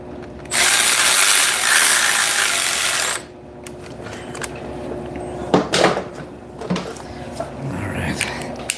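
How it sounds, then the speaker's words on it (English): A wrench ratchets bolts snug on a 1992 Harley-Davidson Softail during a belt replacement: a loud, sustained rapid ratcheting burst up close, then scattered metallic clicks and clanks of parts being handled. "I'm going to go around and tighten them"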